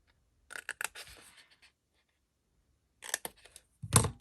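Clunky craft scissors snipping small notches into craft paper, a few quick crisp cuts in a cluster, a pause, then another burst of snips ending with a louder chop, close and fairly quiet.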